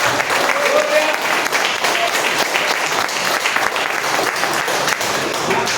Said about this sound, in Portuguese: Pode também dar uma salva de palmas para esse Deus maravilhoso.